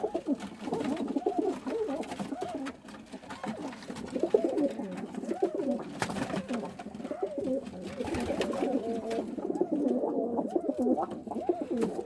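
Pigeons in a coop coo in soft, repeated, overlapping throaty calls, close and moderately quiet, continuing steadily with no speech over them.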